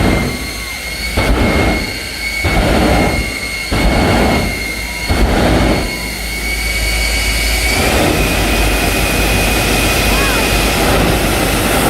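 Jet-powered truck, a Scania Chimera-style showpiece, roaring with a loud, steady turbine blast that pulses in regular surges for the first several seconds, then settles into a continuous high whine and rumble.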